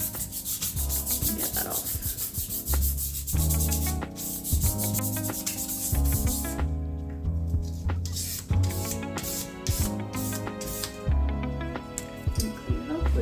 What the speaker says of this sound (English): To clean my block. It's got a bit of gunk on it. Easy to do. Bit of sandpaper.